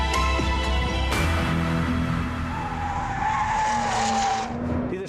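A new Porsche 911 Turbo pushed to its limits on the Kyalami racetrack, its engine roaring loud and close as tires skid and squeal through the curves, with a rising and falling engine pitch.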